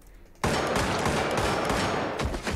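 Rapid automatic gunfire from a gun in the video game Receiver, a loud continuous burst of closely spaced shots lasting about two seconds, with a brief tail of more shots at the end.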